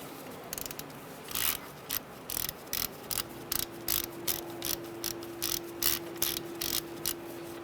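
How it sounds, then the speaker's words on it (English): A ratchet turning a 10 mm socket to loosen a bolt on a 2014-2018 Subaru Forester during rear ABS sensor work gives a steady series of quick, close clicking bursts, evenly spaced and alone. "using a 10 millimeter socket, we are going to loosen this bolt"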